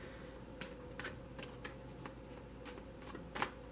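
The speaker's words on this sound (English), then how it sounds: "I'm going to shuffle for this last one" A deck of tarot cards shuffled by hand during a reading, giving faint, quick papery riffles and soft taps in short irregular bursts over a low steady background hum, with no talking.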